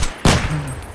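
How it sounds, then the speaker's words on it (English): A shotgun fires once in the video game Escape from Tarkov: a single loud, sharp blast with a short decaying tail, close to the listener. "Yeah, that's a shotgun."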